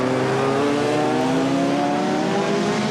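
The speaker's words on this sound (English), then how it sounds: "Justin racing the Mallock Mk 32" A Mallock Mk 32 race car in a 1997 National Supersports championship race roars loudly at high revs, a continuous strained engine note rising slightly as it passes close.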